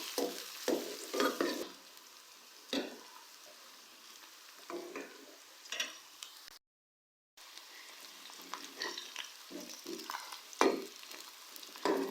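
Ginger garlic paste fries with onion in a pan for a potato, pea and carrot curry, a close sizzle broken by scraping stirs that come in bursts, with one brief dropout partway through and no voices.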